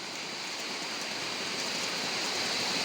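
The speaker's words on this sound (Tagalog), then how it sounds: "Ay, umuulan, no? hindi tayo makakapagtrabaho" Steady rain falls throughout at an outdoor worksite where a utility box is being installed, a soft continuous hiss with no talk over it.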